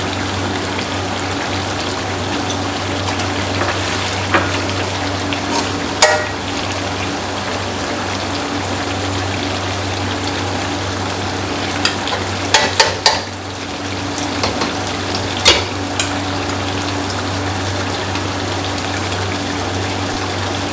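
Chicken karahi sizzling in a wok as ginger and black pepper are added, a steady close frying hiss over a low hum, punctuated by a few sharp clinks and stirring scrapes.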